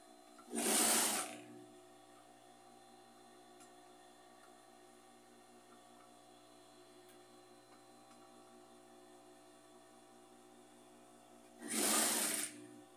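Sewing machine stitching fabric scrap ends onto a rug, two short whirring bursts at start and end separated by a long quiet stretch with low background hum.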